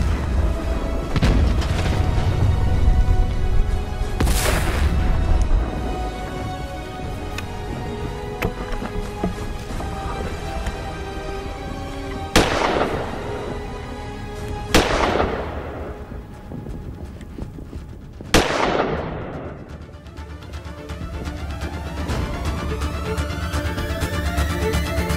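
Gunfire in a war film scene: several sharp, loud shots and booms spaced several seconds apart, each with a ringing decay, over a low rumbling background with no talk.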